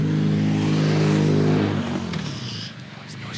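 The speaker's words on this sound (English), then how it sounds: "it's noisy motorbikes" Noisy motorbikes pass along a road near the Rock of Ages in Somerset's Mendip Hills: a loud engine drone that fades away after about two seconds, leaving quieter outdoor ambience.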